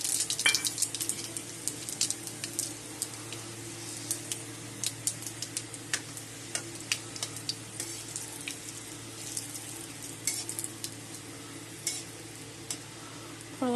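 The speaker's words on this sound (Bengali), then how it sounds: "ফোড়নে দিয়ে দিলাম একটা শুকনো লঙ্কা আর 5 ফোড়ন" Dry red chilli and Bengali five-spice tempering sizzling in hot oil for a bhindi (okra) dish, a steady close crackle with frequent sharp pops and spits throughout, with no talking.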